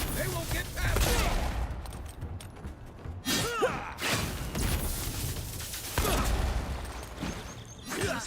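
Pistol gunfire in the Avowed fantasy video game, repeated shots and blasts amid a busy combat mix with crackling impacts and effects, loud and close throughout.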